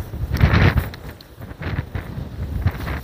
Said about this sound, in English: Woo! That is windy.